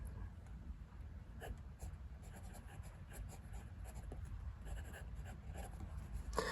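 A TWSBI Eco fountain pen, freshly inked with KWZ Grapefruit, writes on 90 gsm Clairefontaine paper, giving faint, close scratchy strokes with small ticks over a low background hiss, no talking.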